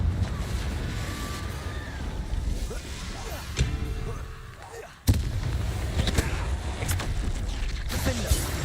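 The Confringo blasting spell from Hogwarts Legacy goes off with a sharp, loud explosive crack about halfway through, followed by rumbling game ambience, with a voice briefly audible.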